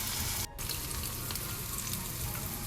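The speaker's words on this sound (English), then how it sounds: "I added some canola oil and slowly adding our tofu" Tofu fries in hot canola oil over high heat, giving a loud, dense, continuous sizzle with a brief dip near the start.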